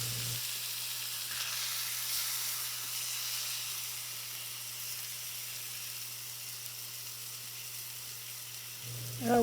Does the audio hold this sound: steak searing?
yes